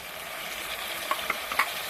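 A soft, steady sizzle of tomatoes frying in a pan for chicken biryani, with a few light scraping clicks from stirring, fairly faint and without voices.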